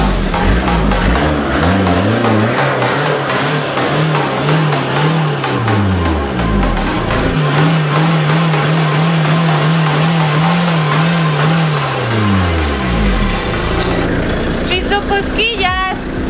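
A Ford Mustang's exhaust is revved hard in repeated long, rising and falling blasts, loud and close, aimed at breaking a crystal glass; voices talk over the engine throughout.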